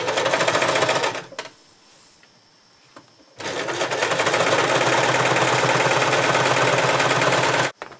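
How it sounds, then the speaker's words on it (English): A sewing machine stitches fabric to seal a rigid plastic panel inside a reusable bag, running in a loud, continuous whirring burst, pausing briefly, then running steadily again before stopping. "I am now going to sew and seal it in."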